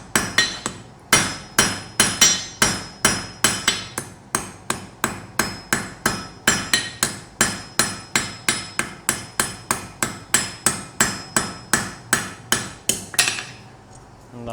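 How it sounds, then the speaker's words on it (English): A blacksmith's hammer forges the stem of a hand-forged metal leaf pendant, striking about forty sharp ringing blows in a brisk, even rhythm. The blows stop near the end. "use your hammer and hammer it like so. Now I'm focusing on forging the stem into the right"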